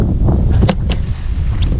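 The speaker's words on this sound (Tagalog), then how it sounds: "Sobrang hangin." Strong wind blowing at sea during airgun fishing, a steady loud roar buffeting the microphone with a dense low rumble throughout, close and constant with no talk.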